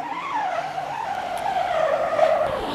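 A squeegee is pulled across a large 20 by 24 inch screen printing frame on a wing pallet in one continuous squeaky stroke, a rubbery whine that wavers slightly in pitch for nearly three seconds, close and alone.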